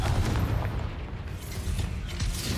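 Explosive spells cast in Hogwarts Legacy combat, a dense rumbling barrage of booming blasts and crackling impacts filling the short stretch loudly.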